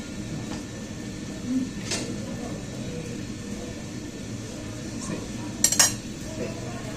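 Seafood being served onto a plate: faint scattered clinks and scrapes of dishes and utensils, with one brighter clatter near the end, set against a steady room hum.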